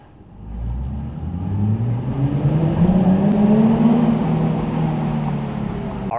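A Nissan 350Z fitted with an ISR Y-pipe and single GT exhaust revs up inside a parking garage, the engine swelling from low idle into a long, loud, echoing rise that holds and then eases back.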